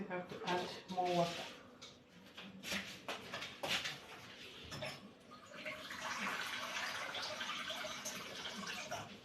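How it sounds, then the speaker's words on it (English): Water poured into grated coconut to extract the milk for homemade coconut oil, a splashing, trickling pour that swells toward the end, with a person talking over the first half. "Still have to add more water."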